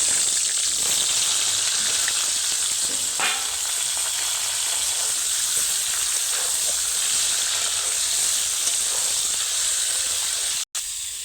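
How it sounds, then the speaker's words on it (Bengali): Young jackfruit pieces fry in hot oil with a steady, close, hissing sizzle that carries on unbroken for the whole stretch, with only a brief cut just before the end. "এবার একে একে এঁচোড়গুলো দিয়ে ভেজে নেব।"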